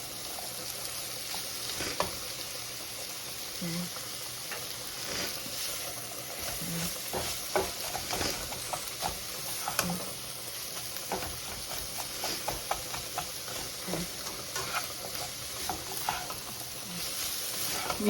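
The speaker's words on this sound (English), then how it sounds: "We're gonna saute it." Cabbage and onion sautéing in a pan for a shrimp spaghetti stir-fry, giving a steady close sizzle with occasional scraping stirs and small clinks throughout, with no talking.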